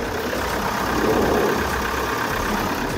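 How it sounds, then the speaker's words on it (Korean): A diesel SUV engine idles with the hood open, a steady, even mid-low rumble held close and constant throughout, with no voices over it. "디젤 엔진이라 어느 정도 소음은 있지만"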